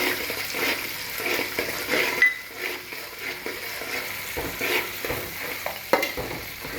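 Green chillies and cumin sizzle in hot oil in a pan, a steady hiss broken by spoon scrapes and a few louder clanks of cookware, close and alone without talk.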